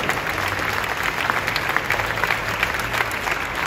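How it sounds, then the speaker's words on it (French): A show audience breaks into steady, fairly loud applause, a continuous dense crackle of many hands clapping with no voices over it. "je veux qu'on l'applaudisse très fort"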